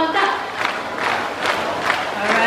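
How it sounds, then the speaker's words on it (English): An audience claps and chants together in support of a blue and gold macaw, rhythmic bursts of crowd voices and clapping repeating about every half second, close and lively. "All you have to do is clap your hands and you go, Zonda, Zonda."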